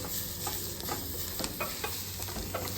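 Onions fry on high heat in a pan with a steady sizzle, broken by the clatter and scrape of stirring at close range.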